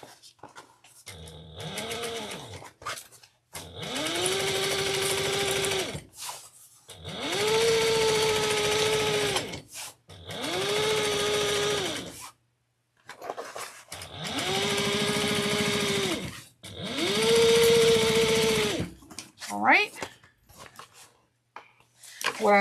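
Sewing machine stitching a bag, its motor whirring in five steady humming runs separated by short pauses, close and clear, with a few handling clicks between runs.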